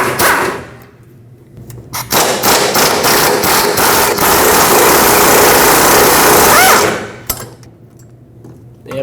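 Rattling power tool loosening 17mm fuel tank strap bolts underneath a Nissan Frontier pickup, loud buzzing bursts for several seconds with short gaps, close up.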